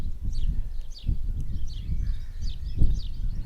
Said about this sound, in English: If we listen we can hear all the birds singing